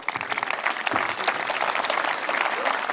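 A lively round of audience clapping at a presenter-hosted event in Salzburg, loud and textured with uneven bursts, with a hint of voices mixed under it.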